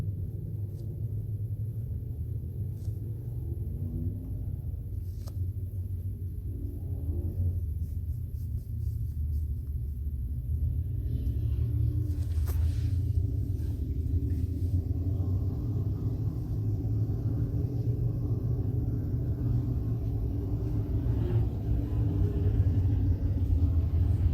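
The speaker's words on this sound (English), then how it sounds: "let you hear the rumble of these motors" Dwarf race car motors at I-76 Speedway during a heat, a deep continuous rumble from several engines that swells slightly louder partway through, heard from a distance with no talking.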